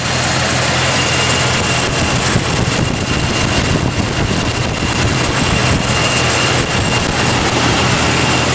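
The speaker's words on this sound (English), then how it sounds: "I just started the Jeep up just to let you hear it run." A Jeep fitted with an aftermarket fuel system runs at a steady idle after starting, a constant loud low rumble with a faint whine on top, continuous and alone throughout.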